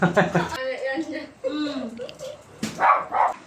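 A dog barks and yips in short bursts, close by, mixed in with people talking over it.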